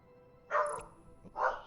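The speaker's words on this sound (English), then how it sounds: "that's my dog barking" A dog barks twice in a home, two short loud woofs about a second apart, close by with no talking over them.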